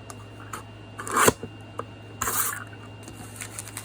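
A paper trimmer slices through greeting cards, giving two distinct close scraping cuts plus a few lighter rustles and taps of the card stock between them.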